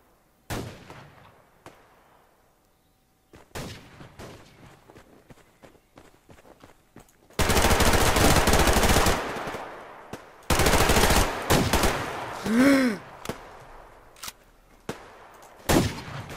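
Gunfire in the game Survarium: loud bursts of automatic fire in several separate volleys, with quiet stretches of footsteps and movement between them.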